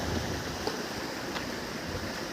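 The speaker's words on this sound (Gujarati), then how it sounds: "અત્યારે તો બાઈજરની અંદર પાણી હાલે છે" A steady, soft rush of irrigation water flowing through a bajra millet field runs continuously with no breaks, fairly quiet and even throughout.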